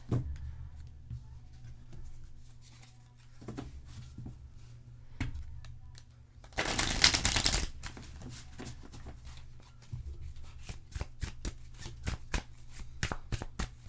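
Tarot cards being shuffled by hand for a card reading: soft riffling and sliding bursts with scattered taps, growing into a dense, louder shuffle midway, then quick crisp flicks as cards are laid down, close and alone.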